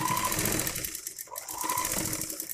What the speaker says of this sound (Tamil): இந்த மாதிரி இந்த ரெண்டு கிளாத்தையும் சேர்த்து ஹாஃப் இன்ச்சில் ஒரு ஸ்டிச் பண்ணிக்க போகிறோம்